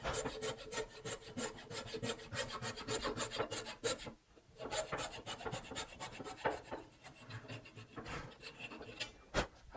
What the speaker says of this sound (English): This is a 22 points per inch blade.